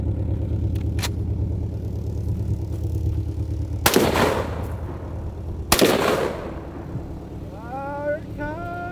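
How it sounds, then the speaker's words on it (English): A SOCOM 16 rifle fires two loud .308 shots of Hornady 178-grain hunting rounds at a car, sharp cracks a couple of seconds apart over a steady engine drone, followed by fading echoes. "This is a SOCOM 16, and I have 3 rounds of Hornady"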